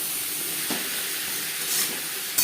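Papaya sizzles steadily in a pan with turmeric and salt, a soft continuous frying hiss with a few brief louder bursts when stirred.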